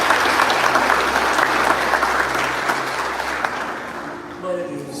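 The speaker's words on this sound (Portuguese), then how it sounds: "Você pode aplaudir ao Senhor mais uma vez?" A church congregation applauds, dense loud clapping filling the space continuously and tapering slightly toward the end, with faint voices mixed in.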